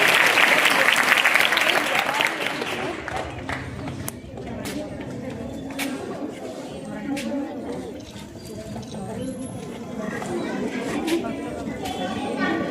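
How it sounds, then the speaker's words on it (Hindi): Loud applause from an audience breaks out for students at a government girls' senior secondary school board results ceremony, then eases into a steady patter of clapping under crowd chatter. "जोरदार तालियां सभी बच्चों के लिए"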